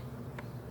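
Honey bees buzz steadily around a hive where they are swarming over small hive beetles, a dense close drone filling the short moment with no talking.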